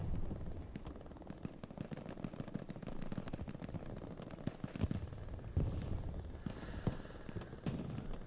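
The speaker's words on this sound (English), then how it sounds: "We've got another explosion going in on Sniper Tower." Explosions, rocket blasts and gunfire fill a battle in the video game Hell Let Loose, with sharp cracks and thuds erupting irregularly over a dense, rumbling backdrop of combat.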